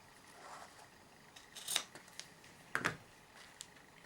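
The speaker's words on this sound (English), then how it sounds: "all I need to do is trim the ribbon" Scissors trimming ribbon on a small paper chocolate treat holder, two quiet close snips about a second apart with faint handling rustle between.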